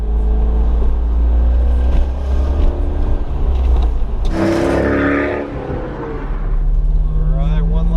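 A C5 Corvette with issues, bought cheaply at auction, accelerates hard on a test drive, its engine note rising loud and steady with a brief surge, while a voice exclaims over it.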